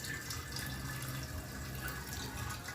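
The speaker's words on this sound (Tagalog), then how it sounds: "Ito naman, tubig, mga 3 litro. Ito yung ilagay natin dito sa tangke na to." About three litres of water poured into a large fuel tank, a faint steady splashing and trickle under low background hiss, with no talk.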